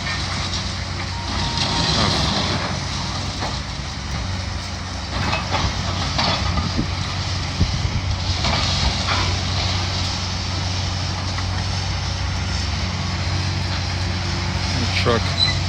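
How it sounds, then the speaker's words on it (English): Heavy truck rumbling at a school demolition site on West New York, a steady low engine drone with clanks and reversing beeps, voices talking now and then over it. "Truck."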